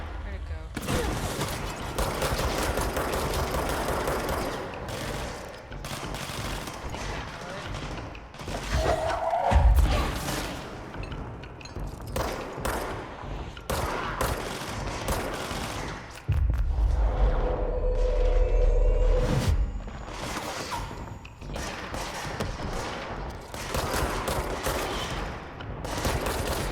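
Gunfire rings out in the video game Control, with dense bursts of shots, heavy thuds and crashes over nearly half a minute, loud and close, and brief voices between the volleys.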